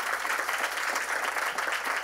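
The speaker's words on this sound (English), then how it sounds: "Please give him a round of applause." Conference audience applauds Congressman Lloyd Doggett at an affordable medicines event, a steady even roar of many hands clapping, sustained and moderately loud with no voices over it.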